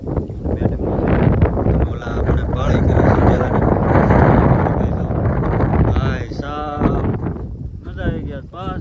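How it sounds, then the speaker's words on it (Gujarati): Strong wind roars and buffets the microphone on a flat rooftop in rain, a steady low rumble, with people talking close by throughout. "પવન બહુ છે ને એટલે બહુ મજા આવે"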